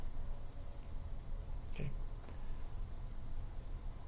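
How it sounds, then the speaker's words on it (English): Crickets chirp in a steady, faint high-pitched trill through a quiet night ambience, continuous throughout, with a brief spoken word in the middle. "Listen to the crickets."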